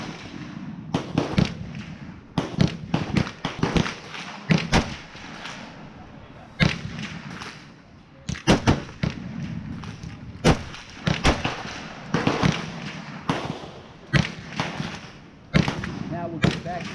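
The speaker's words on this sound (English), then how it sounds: "we got the N-PAP at the range now, and we're going to put a couple rounds in so you guys can see it function" Zastava N-PAP AK-47 rifle fired at an outdoor range at 100 yards, a series of loud, sharp gunshots in irregular single and paired bursts spread across the whole stretch.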